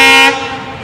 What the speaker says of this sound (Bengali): ওই যে ট্রেন আসতেছে।